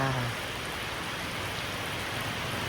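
Steady rain falls and patters on surfaces, a dense hiss that continues evenly throughout, with a brief low tone at the very start.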